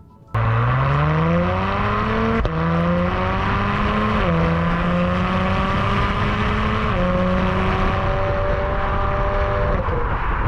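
A 2023 Acura TLX Type S engine drones loudly from inside the cabin, its pitch climbing steadily through gears with brief dips at each shift, a smooth continuous rising whine.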